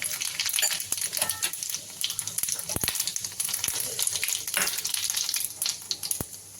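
Mustard seeds and cumin crackle in hot oil over low heat, giving a close bright sizzle with scattered small pops and a few clicks of a utensil.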